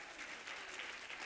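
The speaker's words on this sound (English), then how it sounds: "Give yourselves a big round of applause" A crowd at an exhibition opening claps steadily together, a dense wash of applause at moderate distance with no voices rising above it.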